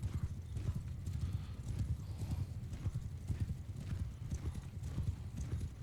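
Horses galloping in battle in Mount & Blade 2 Bannerlord, a continuous low thunder of many hooves with scattered neighs, quiet and rumbling throughout.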